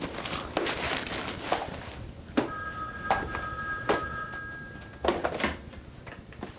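A household telephone bell rings in short repeated bursts indoors, fairly close, with footsteps and a door thunk moving around it and no talking.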